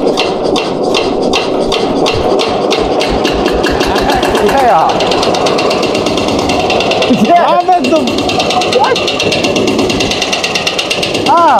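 A tractor engine idles in neutral close by, a loud steady knocking chug with a rising whine partway through, while people talk over it.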